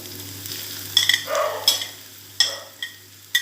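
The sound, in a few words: frying shallots, garlic and bird's eye chili for sambal kecicang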